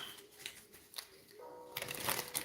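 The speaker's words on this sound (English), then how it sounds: "A couple more shuffles." Tarot cards being shuffled by hand, a soft papery riffling and flicking that builds to a busier, brighter burst of card noise near the end, close and fairly quiet with no talk.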